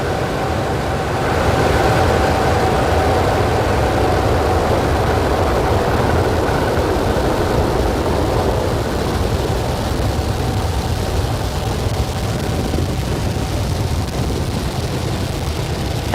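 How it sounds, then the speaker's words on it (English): A SpaceX Falcon 9 rocket carrying Starlink satellites ignites and lifts off: a loud, sustained, rumbling roar that swells after a brief quieter start and holds steady for the whole stretch. "Ignition. And liftoff."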